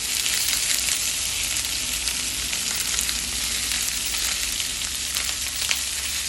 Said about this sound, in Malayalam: ഇനി നമ്മൾ കഴുകി വെച്ചിരിക്കുന്ന ക്യാബേജ് അതിലേക്ക് ഇടും.